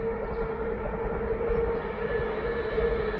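A train rolls past on the railway near a viaduct over the River Weaver, giving a steady, continuous rumble with a sustained tonal hum, fairly close and unbroken by talk.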